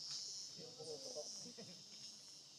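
Cicadas and crickets shrill in a bamboo forest of the Upper Marikina River Basin, a steady high insect drone throughout, with someone speaking quietly beneath it.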